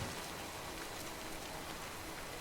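Steady rain in the video game Death Stranding, a dense, even hiss of drops pattering on surfaces that holds at a constant level throughout, with no voices.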